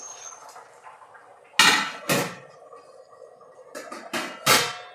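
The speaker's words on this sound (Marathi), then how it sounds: "आता झाकण मारून ठेवलंत ना." Metal lid clanks twice onto a cooking pot on a wood-fired chulha stove, set in a home kitchen while cooking wet cashew bhaji, followed by a few more quick sharp clinks; no talking.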